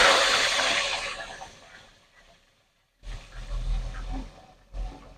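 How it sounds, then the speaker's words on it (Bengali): A rohu fish head fries in hot oil with a loud, broad sizzle that fades away, then returns in fresh bursts of spitting and bubbling after a brief near-silence, with no talking. "মাছের মাথাটাকে ভালো করে একটু ভেজে নিচ্ছি।"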